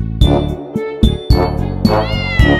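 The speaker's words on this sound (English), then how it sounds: "C for cat" A domestic cat meows repeatedly in a series of short, clear, fairly loud calls, about five in quick succession with brief gaps, heard on its own with no talking.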